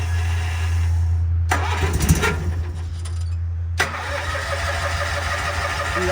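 Gas engine on a mini dozer cranks and catches, then runs steadily with a loud low rumble and rhythmic pulsing, a brief quieter gap in the middle before the idle resumes.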